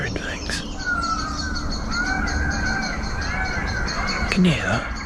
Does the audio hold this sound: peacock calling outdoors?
yes